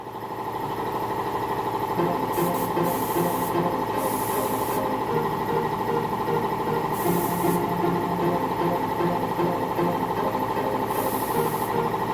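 A steady mechanical hum and rattling drone, like a sprayer pump running continuously, with faint intermittent hissy bursts of spray as a ready-to-spray tack coat goes onto a fiberglass ducktail spoiler.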